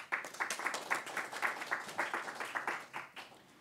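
A modest audience at a science talk claps, fairly faint, with distinct rhythmic claps blending into light applause that continues evenly for a few seconds.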